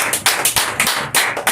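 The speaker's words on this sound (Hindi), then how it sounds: "तन्नू कुमारी का हम लोग जोरदार स्वागत करेंगे एक तालियों के साथ" Applause from a group welcoming a student, a short burst of loud, closely packed claps that ripple unevenly for a second or two.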